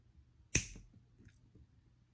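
A small earring piece snaps off a pair of small craft pliers with one sharp, faint click, followed by a quieter tick. The rest is near silence.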